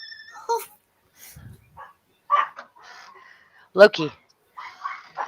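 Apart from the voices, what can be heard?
dogs barking at cats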